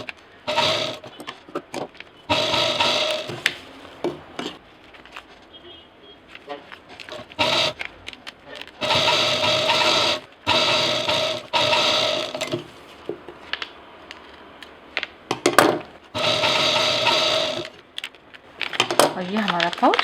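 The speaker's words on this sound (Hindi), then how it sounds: "इस साइड भी सिल देंगे" Sewing machine stitching lock-system piping onto a transparent fabric shagun pouch, running in repeated loud bursts of a few seconds each with short pauses between, and a voice speaking in the gaps.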